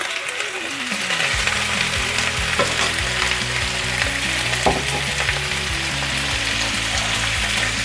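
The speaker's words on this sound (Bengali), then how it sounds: "পেঁয়াজটা হয়ে এসেছে, এর মধ্যে এবার আমি আলুটা দেব।" Potatoes fry in a pan with browned onions, producing a loud, close, steady sizzle that swells as the pieces settle in the hot oil, with occasional stirring clatter.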